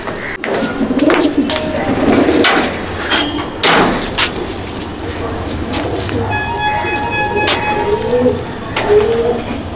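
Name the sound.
Andhra pigeons cooing in a loft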